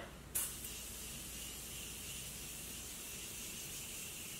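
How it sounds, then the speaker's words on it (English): Morphe setting spray mists onto a face in one continuous steady hiss that starts with a small puff and runs close and even for several seconds, with no voices. "setting spray."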